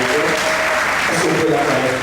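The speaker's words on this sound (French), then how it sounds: "Est-ce qu'on peut acclamer le Seigneur? On peut l'acclamer." A church congregation applauding to acclaim the Lord, steady dense clapping with voices cheering over it throughout.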